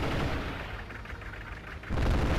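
A war tank fires on artillery in the video game Advance Wars: Days of Ruin: a steady rumbling barrage of game gunfire, then a louder booming burst near the end, with no talking.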